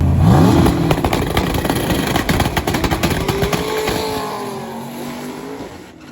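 A Toyota and a modern Camaro hot rod race on the street, engines roaring loudly up close, then revs and a passing whine trailing off as the sound fades.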